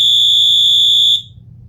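A 12V alarm sounds a loud, piercing continuous tone that cuts off abruptly after about a second as a timed relay opens the circuit, leaving only a low hum behind.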